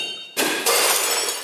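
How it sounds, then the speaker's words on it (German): A glass flask smashed with a hammer at a science show lecture: a single sharp shattering crash after a moment of quiet, followed by a second burst of breaking and tinkling glass that rings on briefly. "Was dieser Glaskolben nun aushält, ich glaube, das kann sich jetzt jeder schon ausmalen. Ja, wenn ich jetzt hier schon mit einem Hammer komme."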